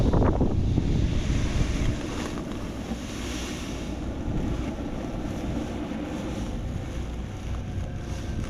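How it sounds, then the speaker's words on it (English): Strong wind gusts roar across an open outdoor yard, loud and continuous, with heavy low buffeting against the microphone and a sharp burst at the start. "It's really windy out."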